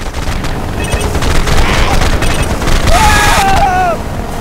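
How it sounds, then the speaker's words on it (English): Rocket-propelled grenade fire and blast in the helicopter action game Choplifter HD, a loud burst of gunfire and booming over constant game noise, with a short whistling tone near the end. "Rocket propelled grenade."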